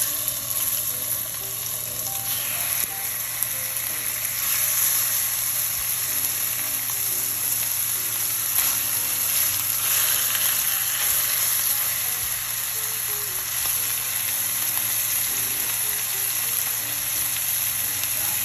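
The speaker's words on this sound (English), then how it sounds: "we're gonna go ahead and sear our filet, just 30 seconds on each side" A filet steak sears in a hot pan, giving a loud, close, continuous sizzle and crackle that holds steady throughout, with occasional faint clicks and no talking.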